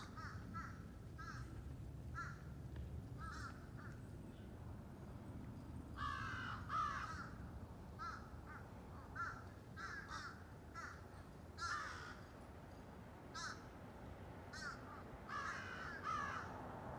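Crows caw repeatedly in short bursts of harsh calls, near and far, over a steady low outdoor background rumble, with no talking.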